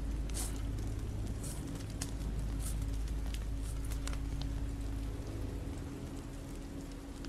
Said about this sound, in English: This rain will turn to sleet.